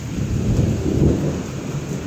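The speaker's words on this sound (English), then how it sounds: "Like the more lightning, the more thundering." Thunder rolls continuously through a heavy thunderstorm, with steady rain hissing close by; the rumbling stays loud and unbroken throughout, and no one speaks.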